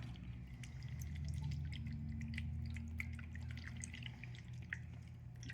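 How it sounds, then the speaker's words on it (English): Worcestershire sauce spritzed over strips of deer jerky, landing as a scatter of small, sharp drips and spatters over a steady low background hum, with no voices. "I'm going to take my Worcestershire sauce and I'm going to kind of spritz over everything one more time"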